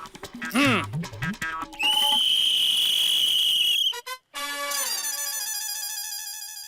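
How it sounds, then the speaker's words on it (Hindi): A police whistle shrills in a comedy scene, sustained high pitched blasts breaking off and starting again amid busy cartoonish sound effects and a brief gap of silence. "लेकिन ये दोनों तो ऐसे डट कर खड़े हैं कि पुलिस की सीटी की भी कोई वैल्यू नहीं।"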